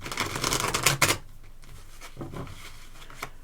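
Tarot cards are shuffled with a quick riffling flutter for about a second, followed by quieter card handling and a soft tap.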